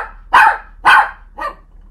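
A dog barks three times in a steady rhythm, close and loud over a quiet background, with the last bark a little softer.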